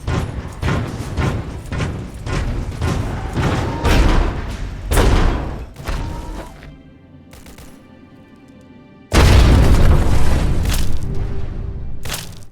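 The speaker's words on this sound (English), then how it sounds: "new sound effects give the Power Armour a more weighty feel when moving and jumping" Heavy, loud clanking and thudding of Power Armour moving and jumping in a modded Fallout 3, dense metallic footfalls and impacts piling up, then a lull before another loud burst of armour noise.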